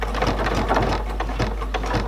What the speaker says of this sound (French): Je couds doucement pour bien positionner ma ligne de pliure dans l'axe.